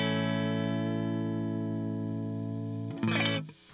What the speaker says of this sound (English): Next I have a sound just from the DI,